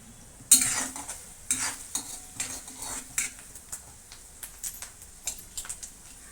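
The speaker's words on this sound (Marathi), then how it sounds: "आपण आधी तेल घेऊन त्याच्यात जिरं आणि कांदा टाकून घेतला आहे तो आता छान परतून घेऊया" Onion and cumin sautéed in oil in a pan, a low sizzle broken by frequent scraping and clinking of a spoon against the metal as the mixture is stirred, close up and without voices.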